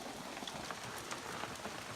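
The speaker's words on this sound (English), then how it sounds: "it started hailing" Hail falling steadily outside a Grand Canyon rest house during a thunderstorm, a dense continuous patter heard at a moderate distance with no voices.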